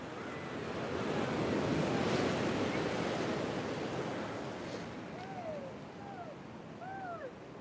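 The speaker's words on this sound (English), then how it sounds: "These waves are not real big today." Surf breaks steadily and rolls up a beach in a broad wash that swells and fades, with faint bird calls toward the end.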